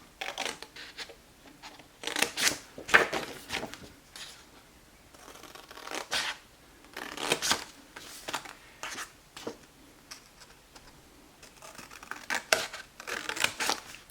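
Scissors snip through paper, cutting the solid lines of a pop-up box card; short crisp bursts of cutting come in irregular clusters with quiet gaps, close and clear, and nobody speaks.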